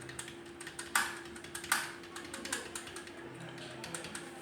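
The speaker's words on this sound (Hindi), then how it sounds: "इसके लिए हम अपने कीबोर्ड से अल्टरनेट, कंट्रोल और डिलीट बटन को एक साथ प्रेस करते हैं और उसके बाद F11 की को प्रेस करते हैं।" Keys pressed on a computer keyboard, Alt, Ctrl and Delete together and then F11, while rebooting a PC: scattered close clicks and taps, with two sharper strokes standing out, under a steady background hum.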